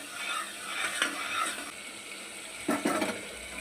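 Jaggery and tamarind going into a sizzling tempering in a pan, a faint, steady hiss with a few soft stirring scrapes.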